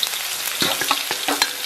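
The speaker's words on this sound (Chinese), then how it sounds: "咱们把葱姜蒜干辣椒给它下里边" Scallion, ginger, garlic and dried chili hit moderately hot oil in a wok and crackle loudly and continuously, with sharper pops scattered through the short burst.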